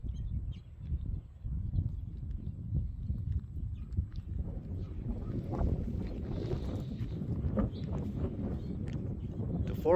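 Gusting wind on a blustery day rumbles low and steady against the microphone, swelling and easing in gusts for about ten seconds, moderately loud with no talk.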